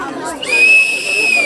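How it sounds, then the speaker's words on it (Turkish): A recycling machine at a European Mobility Week closing event gives a sustained, high, steady whistle after an item is thrown in; it follows a brief rustle and sounds over a crowd's voices. "Bunu attığımız zaman içine düdük olacak."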